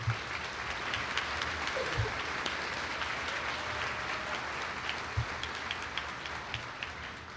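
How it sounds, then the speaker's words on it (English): Sustained audience applause at a college career and technical education graduation ceremony, a steady dense clapping wash from a large crowd with a few louder nearby claps standing out. "Can we get another round of applause for our performers?"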